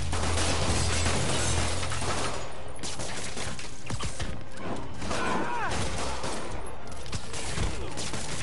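Gunfire from criminals shooting at Spider-Man in a video game, dense crackling bursts over a low engine-like hum and game music, with voices talking over parts of it.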